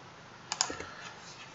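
A few quiet keystrokes on a computer keyboard, deleting selected items during a SketchUp furniture modelling exercise: two sharp clicks close together, then softer taps, with near silence around them.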